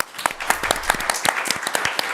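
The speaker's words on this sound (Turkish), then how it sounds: "Yine de Tuğrul Bey'e bir alkış gönderelim." On a Turkish game show, a small studio group claps to celebrate a birthday, a sparse, fairly close patter of individual hand claps with a loose irregular rhythm over about two seconds.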